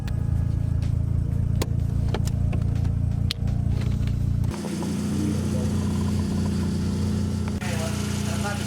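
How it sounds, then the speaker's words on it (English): A Mazda RX-7 FC rotary engine idles steadily at close range, a low rumbling drone that shifts tone partway through, with people talking faintly over it. "That's a really good idle right there"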